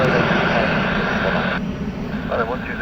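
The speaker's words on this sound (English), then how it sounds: "A sneaky takeoff there from Eastern." Airliner taking off at Gatwick Airport, a steady roaring engine rumble with a whining tone, fairly distant and continuous, while someone talks over it.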